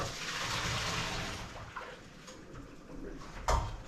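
Cooked pasta noodles drained from a pan, water pouring and splashing in a steady rush that gradually thins, ending with a short sharp clatter near the close.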